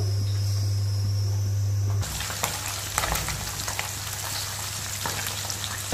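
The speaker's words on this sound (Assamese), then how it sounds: "মাছখিনি ধুনিয়াকে নিমখ হালধি সানি ফ্ৰাই কৰি লম" Steady sizzling and crackling of fish coated in salt and turmeric frying in hot oil, with a low hum at first, close and continuous.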